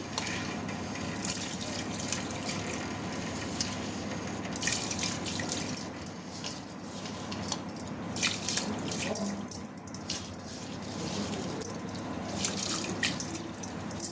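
Rice goes into a pot of bubbling boiling water, bringing a steady close hiss of bubbling with scattered small drips and splashes, with no talking.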